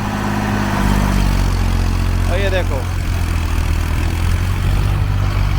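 A brand-new 745 tractor engine runs steadily at 1800 RPM, a loud continuous low-pitched drone that persists throughout, with someone speaking briefly over it.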